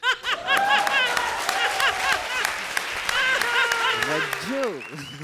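A standing ovation from a studio audience, clapping mixed with laughter and chuckles while a voice talks over it with animated, sing-song intonation.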